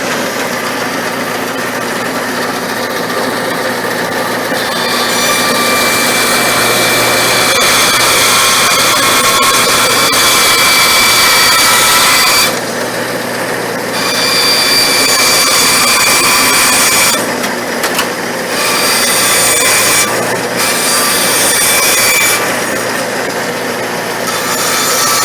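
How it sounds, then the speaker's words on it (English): A bandsaw runs loudly and cuts wood for corn hole boards, its steady motor drone broken by short pauses where the blade noise drops away before resuming. "we've got our bandsaw. And we'll go ahead and run that real quick"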